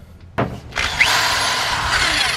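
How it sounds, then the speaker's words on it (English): A power drill whirs up and bores into material while mounting a Kirkey seat, starting after a brief rustle and holding a loud, steady grinding whine close by. "I'm gonna start by doing my drilling the holes on the other side"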